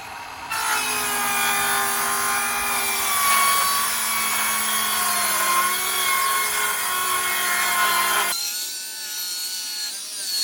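A saw cuts along the rough edge of a rough-cut lumber board for a sauna build, a loud, steady, whining cut lasting several seconds before it abruptly stops.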